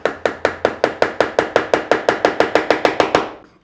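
A wood chisel is struck repeatedly while carving a decorative wooden border at a 45-degree bevel: about sixteen crisp, evenly spaced knocks, close and loud, tapering off at the end with no voice.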